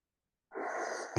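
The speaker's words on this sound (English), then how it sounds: "Exhale is through the opposite nostrils to the one you breathed in through." One slow, airy exhale through a nostril during yoga alternate-nostril breathing, soft and close, with a brief rustle at the end and no talking.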